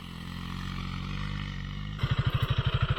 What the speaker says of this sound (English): Alright, so we're finally getting to test ride the CRF300L.